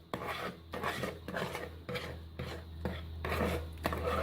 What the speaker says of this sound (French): donc je remue avec un fouet